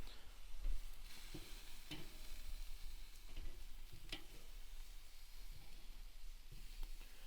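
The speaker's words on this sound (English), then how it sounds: "I'm going to start turning them over and let them sear just a little bit on the other side" Olive-oil-marinated chicken legs sizzle softly on a barbecue grill, a low steady hiss broken by a few sharp clicks and taps as the pieces are turned over.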